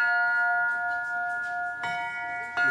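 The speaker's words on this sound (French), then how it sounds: "La cloche triste, pour les enterrements." A church bell in Béthune tolls a mournful funeral knell, a sustained ringing tone struck twice more near the end, each stroke clear and close.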